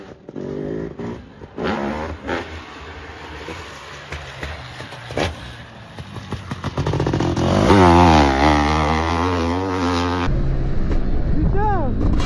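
A vehicle engine runs and rises from a rough idle into a louder, steadier revving drone, its pitch sweeping up and down, with speech underneath.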